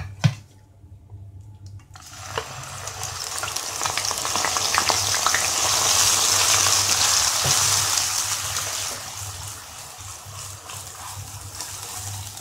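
Onion paste is added to hot oil in a kadhai, setting off a loud, steady sizzle and frying hiss that swells, then eases slightly, with a few clinks of stirring.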